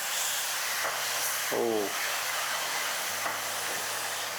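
Apples tumble into hot caramel over maximum heat, a continuous steaming hiss with a brief burst of sizzle and clatter as they go in; a short exclamation is heard.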